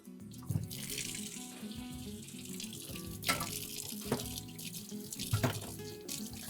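Water runs steadily from a tap for several seconds, with a few louder splashes and clatters as hands are rinsed underneath, fairly close.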